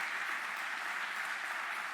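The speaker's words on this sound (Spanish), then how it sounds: "vamos a darle un fuerte aplauso a Dios" Steady, dense applause from a church congregation fills the space evenly, a broad wash of many hands clapping together without a break and with no voices on top.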